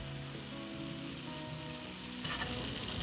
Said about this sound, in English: Finally, add the green part of the scallions. Stir fry for 10 seconds and you are done.